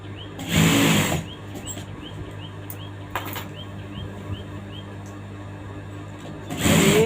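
A sewing machine stitches a sleeve onto a top in short runs, with a loud whirring burst near the start and another at the end and quieter mechanical noise between.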